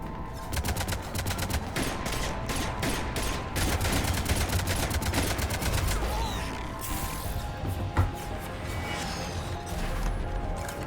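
Heavy cannon fire from a battle in Mass Effect 3, a dense rapid barrage of booming, clattering shots with mechanical rattles and crashes, loud and continuous for several seconds.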